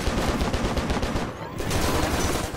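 Rapid automatic gunfire from the video game Stranglehold, fired at a boss: dense, continuous bursts of shots that pause briefly midway, then resume just as loud.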